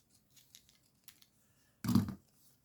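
A pair of scissors cuts once in a short, sharp snip close by, preceded by faint handling rustles in an otherwise quiet room.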